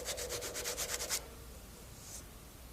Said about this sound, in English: shape and smooth it with chisel and sandpaper to provide a fair lead for the halyard.